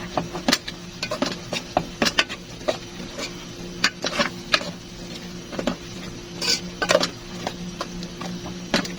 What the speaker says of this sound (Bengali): এখন আমি ভালো করে নাড়িয়ে নেব